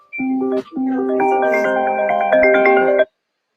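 A phone ringtone plays a loud, clear melodic tone sequence, one short burst followed by a longer continuous phrase, close and alone before cutting off abruptly.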